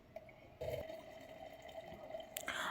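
Water runs steadily into a cooking pot packed with glass jars of homemade tomato sauce, a continuous close pouring hiss that briefly grows fuller partway through, with no talking.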